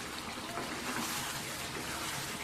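Chicken dum biryani simmering in a pot gives off a steady, even bubbling hiss that runs unbroken and fairly soft, with no voices over it.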